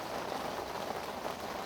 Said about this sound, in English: As you can see, the rain's come as forecast.